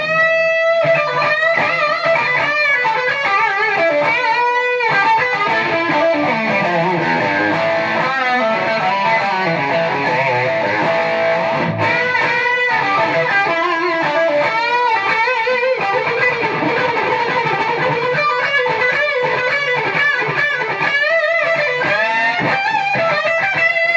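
Lead electric guitar runs through a TC Electronic Dark Matter distortion pedal at high gain: fast, sustained single-note phrases with bends and held notes, loud and continuous, with no voices.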